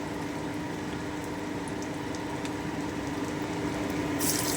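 Bottle gourd malai koftas fry in oil over very low heat with a continuous soft bubbling sizzle. The sound holds even and close, with a brief brighter hiss at the very end.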